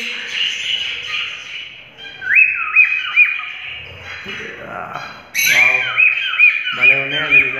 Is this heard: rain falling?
no